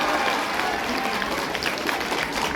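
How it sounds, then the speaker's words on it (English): Sustained applause from a crowd of schoolchildren and staff at a school assembly on meditation, dense steady clapping filling the whole stretch with a faint murmur beneath. "I'm looking for some more clapping."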